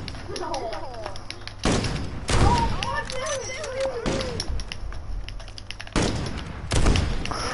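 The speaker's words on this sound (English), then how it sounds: "I'll shoot you with my pistol" Pistol shots ring out in a video game as several sharp, loud bangs spaced a second or more apart, with someone talking between the shots.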